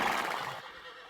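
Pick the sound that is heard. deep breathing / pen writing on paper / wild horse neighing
wild horse neighing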